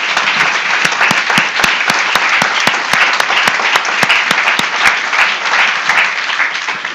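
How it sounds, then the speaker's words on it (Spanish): A church congregation claps steadily and loudly in praise during a worship service, with dense overlapping handclaps and sharp individual claps, and no talking over it. "démosle palmas al Señor."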